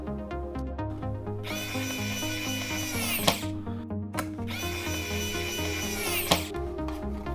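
A power drill drives screws that fasten a SenseCAP M1 miner onto its mounting plate, two long whirring runs with rising pitch, each ending in a sharp click, close and steady.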